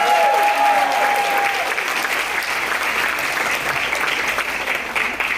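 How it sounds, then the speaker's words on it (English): Warm applause at a wedding reception for the bridal party and dance performers, a dense sustained burst of clapping from a large crowd that slowly tapers off. "So let's give them another round of applause"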